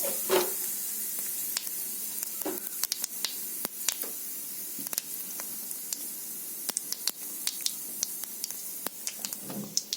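White cumin seeds and a bay leaf sizzling in hot oil for a Bengali tempering, a soft continuous hiss dotted with many sharp crackles and pops, close and fairly quiet, no voices.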